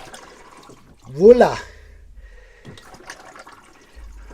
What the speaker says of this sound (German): testen ganz einfach einmal unsere Spülung